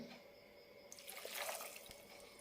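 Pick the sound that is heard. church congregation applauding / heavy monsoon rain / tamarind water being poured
tamarind water being poured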